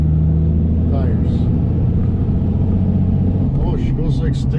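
A pickup truck drives along a road, its tires producing a loud, constant low roar and rumble beneath the engine, with someone talking over the noise from inside the cab.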